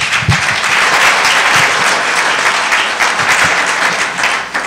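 Audience at a school board candidates' forum breaking into loud, sustained applause, a thick continuous wash of many hands clapping close by with a few sharper claps standing out.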